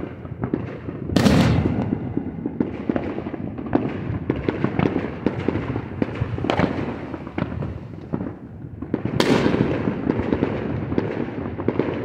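Fireworks going off at night, a steady crackling and booming barrage with two sharp, bright bursts standing out above the continuous rumble, loud and fairly close, with no talking.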